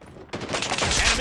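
Rapid automatic gunfire in the Call of Duty video game, a short dense burst of shots starting abruptly and sustaining loud.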